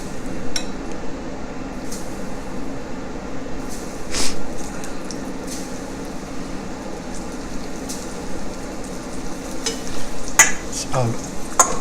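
Venison pieces brown in a pan for hunters stew, a continuous sizzle broken by stirring scrapes and occasional clinks of utensil against metal, close and fairly loud.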